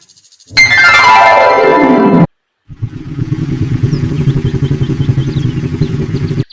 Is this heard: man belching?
no